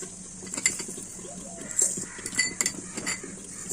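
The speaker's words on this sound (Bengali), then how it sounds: "এখানে আমি দিয়ে দিলাম 2 চামচ মৌরি" Metal spoon clinks lightly against a pan while fennel seeds are tipped in, a few soft taps and scrapes under steady kitchen background hiss, near and quiet.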